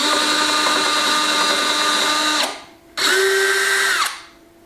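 A power drill bores pilot holes into wood for hinge screws in a farmhouse renovation, two loud close-up bursts of whining motor, a long run then a short one, each spinning down to quiet.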